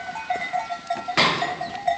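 Goat on a snowy, freezing farm in Kayseri, Turkey, bleating once in a loud, close burst midway, with livestock shuffling and faint farmyard noise around it.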